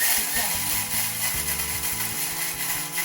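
A Thermomix runs at speed 10 grinding lentils into flour, giving a close, fairly quiet motor whir with a shifting, rattling grind throughout.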